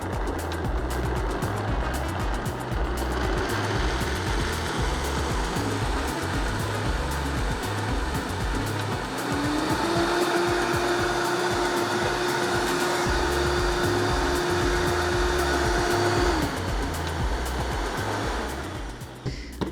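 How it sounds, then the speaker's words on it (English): A high-speed blender whirs steadily as it blends fajita sauce smooth, a loud continuous motor roar that shifts to a slightly higher, strained tone midway before winding down at the end. "you're gonna need a high-speed blender because we're gonna blend this"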